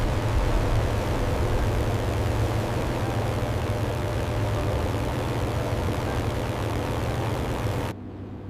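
A P-51 Mustang's engine in flight gives a steady, loud, broadband propeller roar that holds constant for several seconds and then drops off abruptly near the end.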